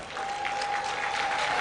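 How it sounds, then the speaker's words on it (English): Audience applause at a Rotary district conference in Naivasha, honouring recognised teams: a dense wash of many hands clapping, continuous and loud for the whole brief stretch, with a faint steady tone underneath and no speech. "Let's give them a big round of applause."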